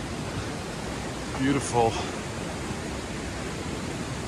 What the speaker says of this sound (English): And the sign says this is the highest waterfall in Switzerland.